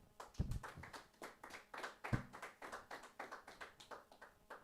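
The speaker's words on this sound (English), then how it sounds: "Let's clap for Jesus." A church congregation claps together during a Sunday service, a steady run of sharp, close hand claps with a couple of louder bursts standing out from the rhythm.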